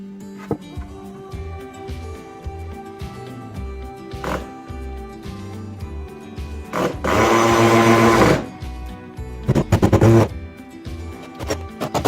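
A power drill drives screws into a wooden mitre station baseboard, with a loud, sustained whirring burst in the middle followed by a shorter stuttering run, amid light workshop knocks and handling sounds.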